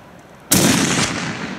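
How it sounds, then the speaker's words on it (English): A single loud rifle shot during an Idaho bear hunt, sharp and close, followed by a long rumbling echo that slowly fades across the open country. "Nice shot, Tana."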